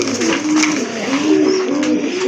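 Soft, repeated throaty cooing of pigeons, close and continuous, with a rolling rhythm and faint background rustle.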